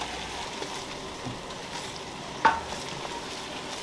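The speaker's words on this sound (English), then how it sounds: "we're gonna stir this together. So well combined and just allow it to cook for about a minute" Butter and flour roux stirred in a pan, a soft scraping stir over a low, steady sizzle, with one sharper clink of the utensil partway through.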